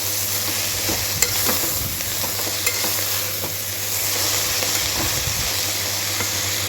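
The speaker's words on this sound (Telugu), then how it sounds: "దీన్ని పచ్చివాసన పోయిన దాకా ఫ్రై చేసుకోవాలి" Finely chopped sorrel leaves fry in a pan with a loud, constant hiss and sizzle, broken by occasional scraping stirs, close up and with no talking.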